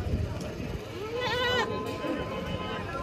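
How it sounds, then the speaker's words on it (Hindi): Goats bleat in a crowded Ajmer goat market where Ajmera breed goats and young kids are for sale, with one clear wavering bleat close by over a steady murmur of voices and market bustle. "सब बकरा है।"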